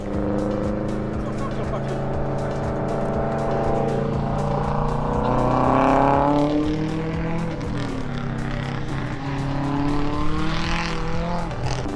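A 300-horsepower rally Subaru slides around a track corner, its engine loud and close, revving up and down in rising and falling sweeps, with tire squeal mixed into the sustained roar.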